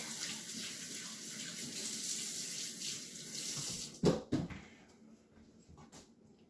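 A kitchen tap runs steadily as hands are wet to keep dough from sticking, a soft continuous water rush that cuts off with a couple of splashes and clunks near the end.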